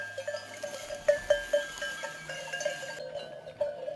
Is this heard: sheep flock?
yes